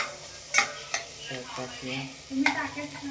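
Chopped onion and garlic fry in a pan for homemade pasta, giving a soft, close sizzle while a utensil stirs and scrapes in a few distinct knocks.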